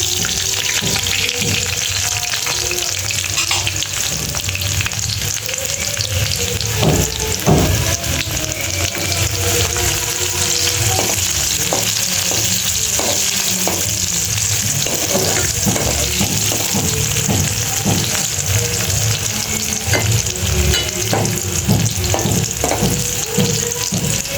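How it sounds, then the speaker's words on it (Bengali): Garlic and a bay leaf fry in oil in a pot, giving a steady close-up sizzle with scattered crackles and the occasional clink and scrape of stirring throughout. "দেখুন রসুনটা আমার খুব সুন্দর ভাজা ভাজা হয়ে গেছে"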